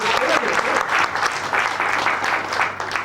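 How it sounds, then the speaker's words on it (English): Applause for a magician at a 1996 birthday party, a dense, continuous round of clapping from a small indoor group that stays strong for the whole clip, with some voices mixed in. "Let's give him a big round of applause."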